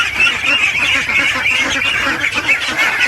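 A dense flock of native ducks (itik) being raised on a farm quacks continuously and loudly at close range, overlapping calls forming a steady chorus with no pauses and no voices.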